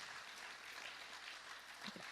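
Faint applause from a church congregation, a soft continuous patter of clapping heard from a distance, with no one speaking over it.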